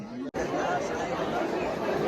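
Dense crowd of devotees at Ekvira temple, a steady loud hubbub of overlapping chatter from many people close by, broken by one brief dropout near the start.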